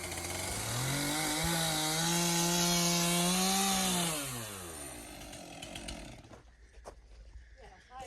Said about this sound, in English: Randy with the chainsaw